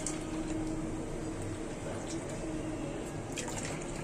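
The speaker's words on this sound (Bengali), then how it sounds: "এটা হচ্ছে গরম পানি।" Hot water is poured into a pot for cooking dal, a soft continuous liquid gurgle and splashing with occasional drips, close and moderately quiet, steady from start to finish.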